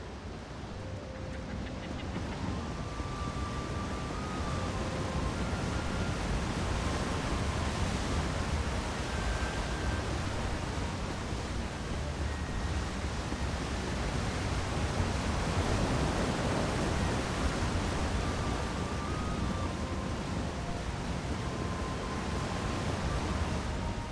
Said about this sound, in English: The gentle babbling of a nearby waterfall.